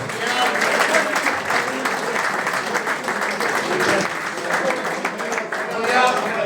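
An audience claps steadily and warmly for a former Ljubotan football player at a veterans' reunion evening, a sustained round of applause from a sizeable crowd.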